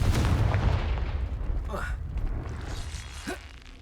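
A Confringo fire spell cast in the Hogwarts Legacy video game: a heavy booming blast that rolls off, followed by a couple of quieter whooshing bursts.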